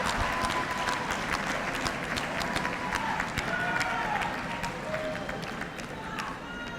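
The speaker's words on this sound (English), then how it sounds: "give a round of applause to thank your family and friends who helped you along the way" Graduates at a Touro College law school commencement ceremony give a sustained round of applause. Many hands clap steadily throughout, with crowd murmur mixed in as the applause tapers slightly near the end.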